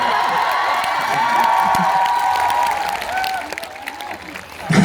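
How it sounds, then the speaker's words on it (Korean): A live audience at a show claps and cheers in a dense, steady wash for about four seconds, then fades slightly toward the end, with faint sustained musical tones underneath. "이 박수 소리를 들으니까 투표 결과가 예상이 되네요"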